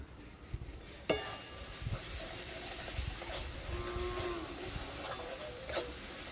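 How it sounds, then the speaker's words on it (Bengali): Mustard oil drizzled over ground spices and grated ginger in a pan for a green jackfruit curry, giving a soft, steady sizzle with faint stirring scrapes, fairly quiet and with no talking. "মশলার উপর দিয়ে আমি আর অল্প করে চারিপাশ দিয়ে সরষের তেল দিয়ে দিচ্ছি"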